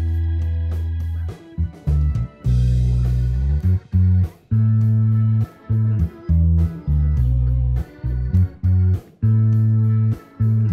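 Close-miked bass guitar through a speaker cabinet, recorded with a condenser microphone placed for maximum attack, plays loud, punchy sustained low notes in short phrases separated by brief gaps.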